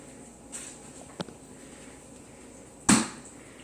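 A roll of refrigerated dough is opened for a casserole bake, giving one sharp loud pop of the can seam, preceded by a couple of faint soft clicks in a quiet kitchen.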